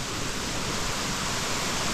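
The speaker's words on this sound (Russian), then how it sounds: "Водопадики." Small waterfalls along a Crimean coastal route between Yalta and Simeiz produce a steady, even rush of falling water, constant and moderately loud throughout with no voices.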